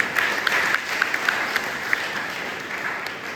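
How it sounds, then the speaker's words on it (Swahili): A church congregation bursts into steady applause, dense and continuous with a few sharper claps standing out, fairly loud and close, with no talking over it. "Makofi"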